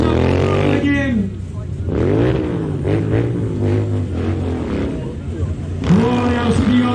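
A Royal Enfield motorbike at a Peterborough stunt show, its engine rising and falling as the throttle opens, heard under loud, continuous commentary from a man.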